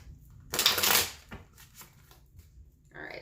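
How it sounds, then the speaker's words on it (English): Tarot cards get a quick riffle shuffle: one loud burst of flapping, then several softer taps and slides as the deck is squared, recorded close with no talking. "Sorry, one more shuffle."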